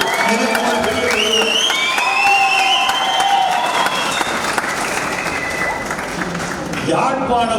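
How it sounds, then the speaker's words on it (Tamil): Loud crowd at a Tamil literary gathering in Jaffna claps and whistles, shrill rising whistles weaving over continuous dense applause and cheering, with voices mixed in. "தமிழ் என்று சொன்னவுடன் விசிலடிக்கிற கூட்டம் யாழ்ப்பாணத்தில் தான் இருக்கிறது"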